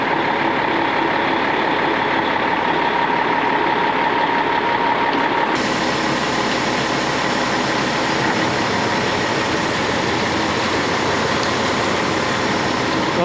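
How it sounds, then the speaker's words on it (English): A farm truck's engine idles steadily near grain bins, a constant close rumble that shifts in tone partway through, with no talking. "Dad's coming with the truck now to see if it fits underneath here."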